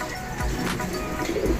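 Racing pigeons, older birds, cooing close by in soft, low, throaty murmurs that overlap in a steady drone, with no speech over them.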